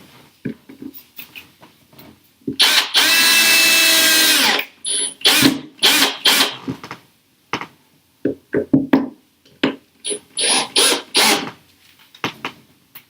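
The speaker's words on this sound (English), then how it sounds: "we don't want to screw this all the way in because it has to stick out a little bit for the coat hanger to hang on to" A power drill drives a screw into a wall for a wall-anchored coat rack: one long whirring burst, then a series of short, stuttering pulses with brief pauses between, close and fairly loud.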